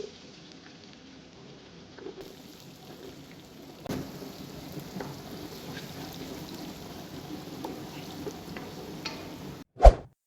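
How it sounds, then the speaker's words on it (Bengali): Garlic fries in hot oil for a Kuwaiti shrimp biryani, giving a soft, continuous crackling sizzle much like light rain. It stays fairly quiet and steady, with an occasional louder pop or clatter and no talking. "রসুনটা আমরা এখন ফ্রাই করতেছি"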